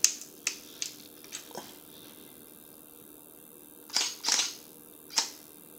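A camera fires a test shot with its flash, giving a few sharp mechanical shutter clicks scattered across the moment, close and fairly quiet in an otherwise still room.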